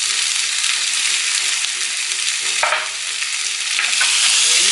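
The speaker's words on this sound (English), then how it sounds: "You just stir it up" Steak seasoned with seasoning salt and pepper fries in a pan on low-medium heat, a steady, loud sizzling hiss with a few stirring scrapes breaking through, close by and without speech.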